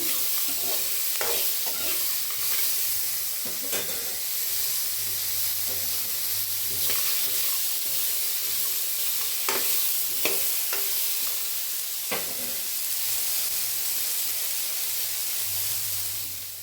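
Tomatoes frying in a pan for coconut chutney give a steady close sizzle, with repeated clinks and scrapes of stirring and low background hum throughout.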